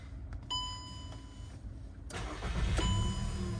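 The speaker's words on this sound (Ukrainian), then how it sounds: "зараз я заведу двигун" A 2007 Volkswagen Golf Plus 1.6 MPI engine cranks and catches, then settles into a steady idle, preceded by a few dashboard chimes and clicks, heard close up.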